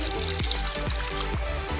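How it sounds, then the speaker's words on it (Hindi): Steady hissing sizzle of half a litre of water hitting a hot pot of karahi gosht, with low bubbling and a few soft stirring knocks, close and continuous. "अब इसमें आधा लीटर पानी शामिल करेंगे"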